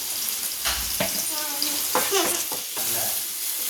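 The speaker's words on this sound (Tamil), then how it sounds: "வெங்காயம் நம்ம நல்லா வதக்கி விட்டுட்டோம் நல்லா விதங்கட்டும்" Onions sizzle and fry in a pan for cluster beans masala and are stirred with a few scraping strokes, close up and steady, with no talking.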